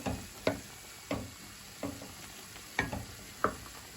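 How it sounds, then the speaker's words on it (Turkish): Lamb kavurma sautéing in a pan: a low steady sizzle with a spatula scraping and clinking against the pan every half second or so while the meat is stirred, close and fairly quiet, with no voices. "Arada karıştırarak kavurmaya devam edeceğiz."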